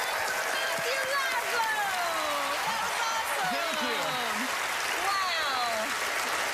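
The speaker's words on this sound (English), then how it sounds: "Huge round of applause." Steady applause from a studio audience at a magic competition show fills the whole stretch, dense and continuous, with voices talking and calling out over it.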